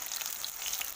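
Onion and a dried red chili frying in oil in a karahi, giving a brief, steady, close hiss of sizzling with no pauses.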